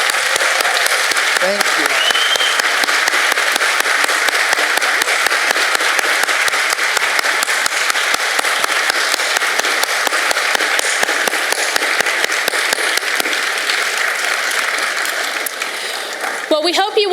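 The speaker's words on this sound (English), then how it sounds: "can I get just one more round of applause for George?" Audience applause for author George Dawes Green at a book festival, a dense, loud, continuous wash of clapping that tapers near the end, with a brief voice speaking at the close.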